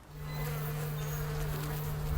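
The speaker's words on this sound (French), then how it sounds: "Les abeilles nous servent à faire des amandes par la pollinisation." Bees buzz close to the microphone in an almond orchard. A steady, sustained droning hum with a clear tonal pitch and small wavering shifts runs through the short clip, with no voices.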